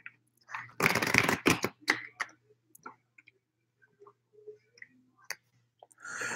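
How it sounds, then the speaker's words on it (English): A deck of tarot cards is shuffled close up in a quick riffle burst, followed by scattered soft clicks and taps, with faint talk in between. "now let's do last shuffle"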